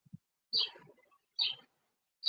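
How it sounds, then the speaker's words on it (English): Two or three short, bright bird chirps spaced about a second apart, close and clear against near silence. "I hear the birds."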